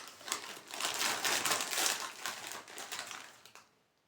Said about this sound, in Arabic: الواحد بقى يفتح كيس الشيبسي ده وياكل